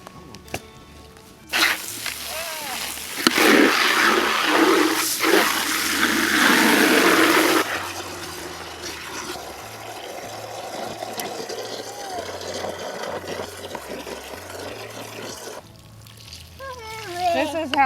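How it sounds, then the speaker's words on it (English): Water is poured from above onto loose dirt around a newly planted fruit tree to settle the soil, a loud close splashing for several seconds that fades to a softer trickle, with outdoor ambience and a low engine hum. "It was just to pour the water on top of it, and they'll kind of make the dirt settle around it."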